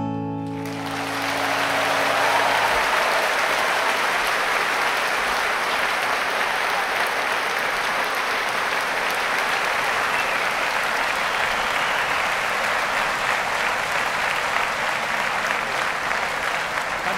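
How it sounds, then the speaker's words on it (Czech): Concert audience in Prague's Lucerna hall applauding a performance, a steady dense wash of clapping that rises after the first second and holds loud and continuous throughout. "Že tleskáte výborně,"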